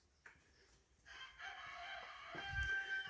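A rooster crows once in a drawn-out, moderately distant call after a brief click, with a low rumble underneath and no one talking.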